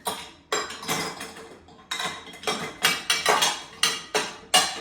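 Dishes clatter and clink one after another as plates and utensils are loaded into a dishwasher rack, a dozen sharp knocks in an uneven rhythm, close by.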